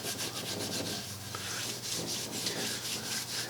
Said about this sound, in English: I'm either rubbing with the grain or a circular motion